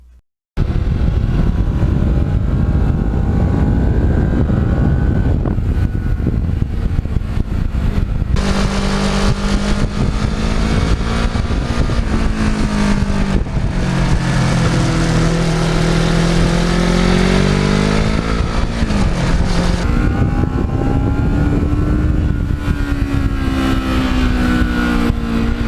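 A Kawasaki Ninja motorcycle engine while riding, a loud continuous drone close to the rider with rising and falling revs as it accelerates and shifts, wind noise mixed in throughout.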